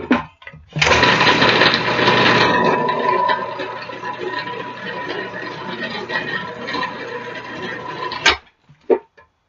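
Food processor spinning a raw vegan German chocolate cake mixture with cacao, a loud steady whirring grind lasting about seven seconds before stopping abruptly, followed by a couple of faint knocks.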